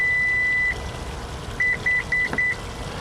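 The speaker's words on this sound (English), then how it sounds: "you're going to hear one beep and then 3 quick beeps." Confirmation beeps from a 2021 Toyota Sienna XLE minivan: one longer electronic tone, a pause, then a quick run of short beeps, clear and close inside the cabin with a low background hum.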